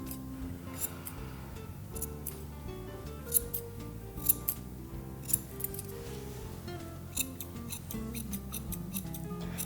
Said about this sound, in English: I'm just going to scissor around Kiki's foot.